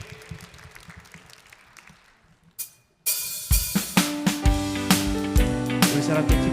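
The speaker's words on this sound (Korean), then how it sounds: "우리 주님께 영광의 박수를 드립니다." Congregation applause during a Korean Full Gospel church worship service. A broad wash of clapping fades out, then loud band music with heavy rhythmic beats comes in.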